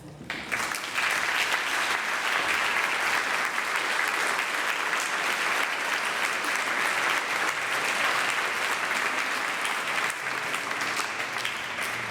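Sustained audience applause welcoming artist Ann Hamilton to the stage at the Artists on Artists lecture series, a dense, steady clapping from a large crowd that holds at even loudness throughout, with no voices over it.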